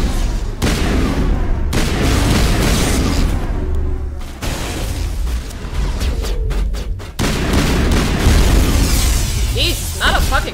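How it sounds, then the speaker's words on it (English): Combat in Mass Effect Legendary Edition sets off dense, continuous explosions and gunfire, a loud roaring barrage with repeated booms and crackling bursts and no letup. "It's a lot of explosion here!"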